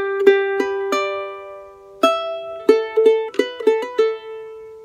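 A short melodic phrase on a charango, plucked notes spaced unevenly with a pause, then a quicker run of bright, ringing strikes, solo and close.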